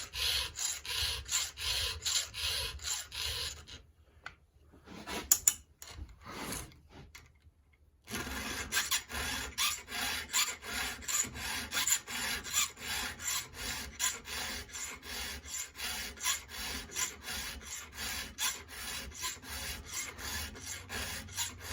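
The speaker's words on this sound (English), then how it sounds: "when you're filing a chain" A hand file rasps along the teeth of a 355T chainsaw chain in steady, rhythmic strokes, close and clear, pausing briefly for a few seconds before the regular strokes resume.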